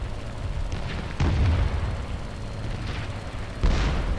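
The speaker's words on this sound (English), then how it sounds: "So the flak is pretty obnoxious right here." Flak bursts around a Macchi MC.202 fighter in a flight-combat game, distant muffled booms with two sharper thuds standing out over a steady low engine drone.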